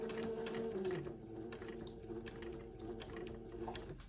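A domestic sewing machine stitches fabric onto a garment's neck edge, a steady close mechanical whir with rapid needle ticks running throughout, with a faint hum beneath.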